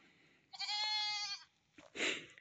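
Kiko goats bleating nearby, one long wavering bleat followed by a shorter, rougher call, loud and clear against quiet background.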